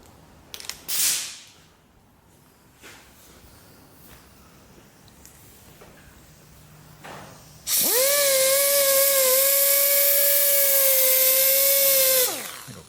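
A compressed air line in a workshop gives a loud, steady hiss that starts abruptly after quiet handling noises and holds for about five seconds before cutting off.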